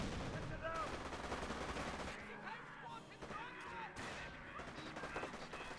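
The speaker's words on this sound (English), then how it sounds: "Gewehr's rattle in. And we've got an MG42 as well." Rifle and MG42 machine-gun fire from the Company of Heroes strategy game, a dense, continuous rattle of overlapping shots and bursts under the steady din of battle, with a commentator talking over it.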